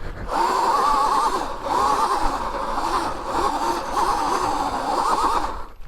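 A 79bike Viper S electric dirt bike rides off-road, its motor giving a rising and falling electric whine in repeated surges, close and fairly loud over rough terrain noise.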